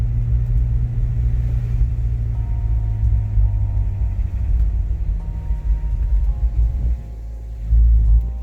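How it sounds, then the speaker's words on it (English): A Corvette C6 Z06 cruises gently on the road, heard from inside as a steady, loud low engine rumble and road drone with mild throttle changes and a faint whining tone. "Let's go for a little drive. Not gonna drive it crazy, just gonna drive it gently."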